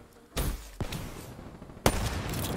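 Video game Search and Destroy match audio with sniper rifle gunfire: two sharp loud shots, the first followed by a quick smaller crack, the second after a gap, each trailing into echoing ambience.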